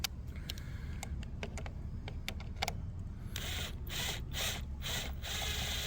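A ratchet wrench working bolts on a push mower during carburetor cleaning, a run of sharp quick clicks, then a faster denser burst of ratcheting, close and fairly faint, with no speech.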